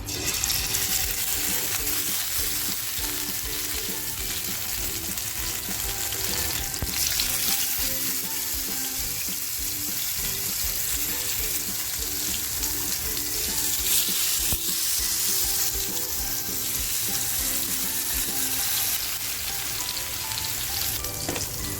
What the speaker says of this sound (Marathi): मच्छी घेतली आहे ना ती आता आपल्याला फ्राय करायला टाकायची